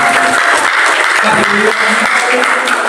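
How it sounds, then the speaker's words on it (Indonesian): Steady applause from a church congregation at a prayer and fasting gathering on Mount Salak, Bogor, a continuous dense clatter of hands filling the space, with a voice faintly audible beneath it. "Sekali lagi berikan tepuk tangan yang berbahagia"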